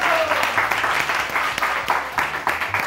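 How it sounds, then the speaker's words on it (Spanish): A studio show audience breaks into sustained applause for an introduced guest, dense clapping from many hands that holds steady and fairly loud throughout. "Denle un aplauso ya a este hombre, por favor"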